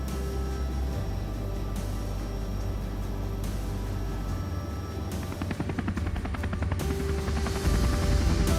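A helicopter returns to a helipad after a sightseeing flight over the falls, its rotor thumping in a loud, steady, close drone that shifts in pitch as it settles.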